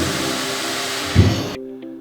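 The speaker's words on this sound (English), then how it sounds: "When you have the vacuum hooked up to this thing with a powerful vac, you're gonna see and hear the stainless steel sides pop in and out a bit." A powerful vacuum pump drawing maple syrup through a stainless steel filter, a steady loud whirring hum with a dull thump from the flexing steel sides before the motor cuts off abruptly.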